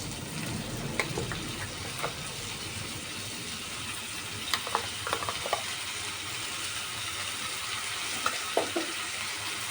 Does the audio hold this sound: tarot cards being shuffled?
no